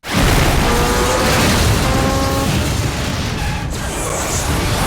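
Loud booming vehicle explosions in a Mission Impossible II film action sequence, one sudden heavy blast followed by a sustained roaring rumble that slowly fades.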